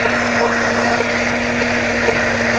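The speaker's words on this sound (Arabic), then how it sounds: "الأول هنطحن الحبهان" An electric grinder grinds cardamom pods, a loud, steady high-pitched motor whine with a constant hum running unbroken throughout.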